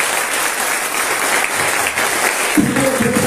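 Crowd at a press event in Chalco applauds governor Delfina Gómez Álvarez with loud, continuous clapping, a voice briefly rising over it near the end.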